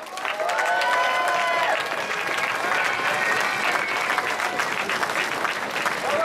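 Crowd applause fills a podium ceremony for a Tour de Romandie cycling stage in Lausanne, loud and steady throughout with scattered cheers mixed into the clapping.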